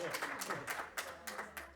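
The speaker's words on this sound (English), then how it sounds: "Give him a round of applause." Audience applause at a celebration dinner, a rhythmic patter of hand claps that sounds fairly light, with some claps landing together, heard under ongoing talk.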